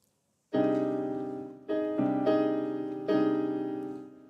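Piano chords built from open, stacked fifths, struck four times in a slow uneven rhythm, each ringing out and fading before the next.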